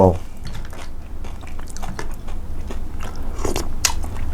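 Crunchy pomelo salad with crispy fish being bitten and chewed, a sharp bite at the start followed by close, irregular crunching and wet chewing, with faint murmurs under it.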